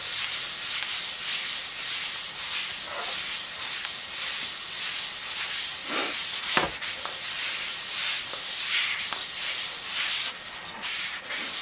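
A bowling ball surface is sanded while being resurfaced, a continuous close, hissing rasp that holds steady throughout with a few brief scuffs and bumps.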